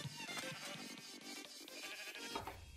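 Sheep bleating in the video game Minecraft, repeated wavering bleats layered over a dense backdrop of game audio.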